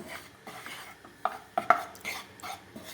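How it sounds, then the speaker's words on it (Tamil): Gram flour dry-roasting in a pan over medium flame for Thirubagam sweet, a spoon scraping and clinking against the pan in short irregular strokes, close and fairly quiet. "அடுப்பில் ஒரு பேன் வச்சு இந்த கடலை மாவை கொஞ்சம் லைட்டாக ரோஸ்ட் பண்ணிக்கலாம்"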